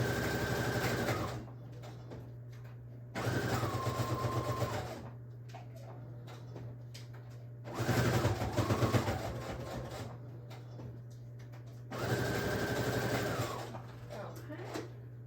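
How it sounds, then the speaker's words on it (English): Sewing machine stitching around the edges of vintage paper slides for a junk journal, running in four bursts of rapid steady stitching with pauses between, close and moderately loud. "I am gonna go sew around the edges real quick"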